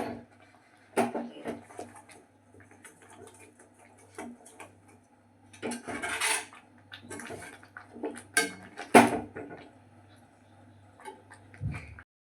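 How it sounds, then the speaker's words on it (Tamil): A spoon stirs spicy chutney in a pan, making scattered scrapes and light metallic clinks at irregular intervals over a quiet kitchen background. "இதுக்கு தேவையான அளவுக்கு வந்து உப்பு போட்டு இதை இன்னொரு தடவை கிண்டி விட்டுட்டு"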